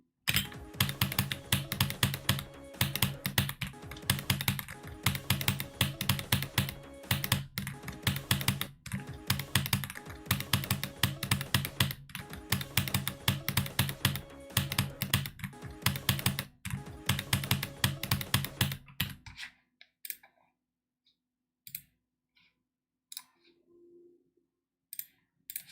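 Rapid, dense keystrokes clatter on a Wooting computer keyboard for about nineteen seconds in close, loud bursts, then stop, leaving near silence with only a few faint isolated clicks.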